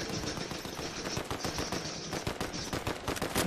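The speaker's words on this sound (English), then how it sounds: "Why is she shooting?" Rapid automatic gunfire from the Fortnite video game, a dense burst of quick repeated shots rattling continuously for a few seconds at moderate level.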